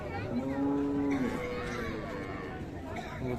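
A cow moos once, long and low, at a busy village cattle market where Friesian cows with calves are sold, with crowd chatter and voices around it throughout.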